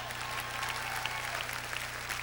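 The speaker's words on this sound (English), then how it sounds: "That's where you guys clap and go," Audience applause at a country music concert at the Ryman, a steady wash of many hands clapping throughout, moderately loud and continuous with no break.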